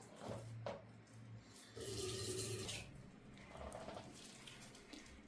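Lukewarm water poured slowly into a bowl of flour for spinach pastry dough, a soft, quiet trickle that rises and falls over several seconds, with a few faint clinks.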